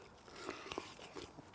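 Crunchy deep-fried smoked chicken wing from an offset smoker is bitten close to the microphone, with a few quiet crisp crunches and crackles scattered over a brief moment of chewing.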